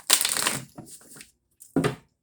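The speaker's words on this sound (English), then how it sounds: "one more shuffle" A deck of tarot cards is shuffled during a reading. One long riffling burst is followed by a softer rustle, a short pause and then a final brief shuffle, all close up and quiet.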